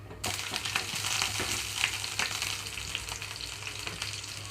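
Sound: chopped green chillies frying in oil on medium flame

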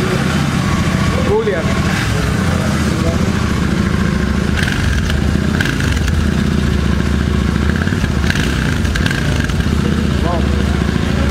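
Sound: Royal Enfield motorcycle exhaust revving

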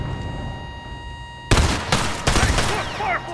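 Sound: grenade launcher firing in The Last of Us Remastered video game

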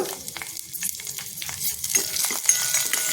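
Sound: green chillies frying in mustard seed tempering

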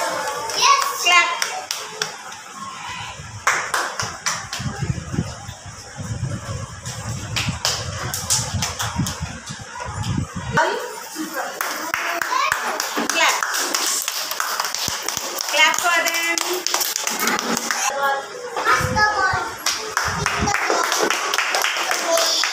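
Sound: children clapping hands in a game

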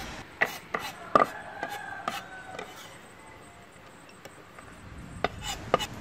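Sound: knife chopping and mincing thinly sliced ingredients

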